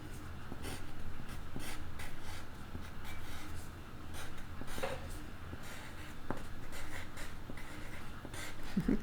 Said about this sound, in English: still writing